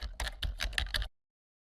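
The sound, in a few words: pressing keys on a computer keyboard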